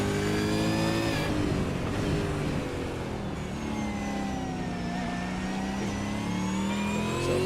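A V8 Supercar in a sim racing game at Interlagos GP pulls out of a corner in first gear, its engine note climbing and shifting in layered rising whines over a constant rumble, close and loud, with no talk.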